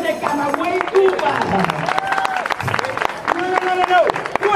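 An audience claps for a magician at a live show, a fairly loud, scattered patter of hands continuing under an emcee's excited shouting voice.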